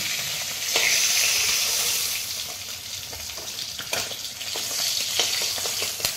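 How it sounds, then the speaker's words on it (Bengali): Bay leaf, dried chilli and five-spice hit hot oil in a pan and crackle into a loud, steady sizzle, with a few sharp pops and stirring clinks close by. "আমি ওই তেলের মধ্যে একটু ফোড়ন দিয়ে দিলাম, একটা তেজপাতা, শুকনো লঙ্কা আর অল্প 5 ফোড়ন।"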